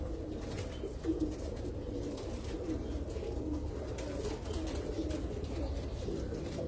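Teddy pigeons coo softly in a loft, low repeated rolling coos overlapping steadily, with faint background noise and no talking.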